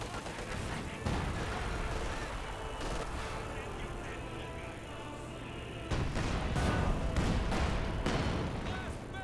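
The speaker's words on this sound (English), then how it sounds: "Good shot there in the 120mm mortar" A 120mm mortar fires in a Company of Heroes 2 battle, with repeated heavy booms and explosive bursts against a dense wartime din, and a voice occasionally heard over it.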